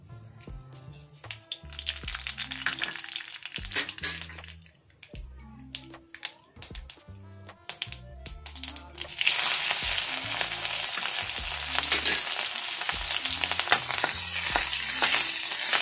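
Cumin and mustard seeds sizzle in hot oil for poha chivda, starting as bursts of crackle and popping between clinks, then settling into a louder continuous close-up hiss with no speech.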